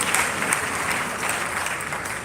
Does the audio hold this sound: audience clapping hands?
yes